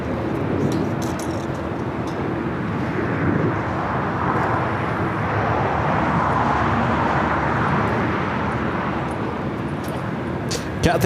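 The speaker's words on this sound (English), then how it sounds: "the China Airlines cargo will be taking off on 25" China Airlines cargo plane taking off on runway 25 left at LAX, a broad steady roar of jet engines spread over the whole stretch, moderately loud and distant, with radio-style voices talking over it.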